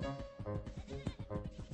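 Sheep bleat in a video game, several short cries in quick succession, loud and close, layered over busy game sounds.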